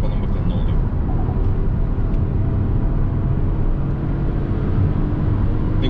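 Hyundai i20 driven in sport mode on a winding road, a steady engine hum with road and wind noise filling the cabin, moderately loud and unbroken.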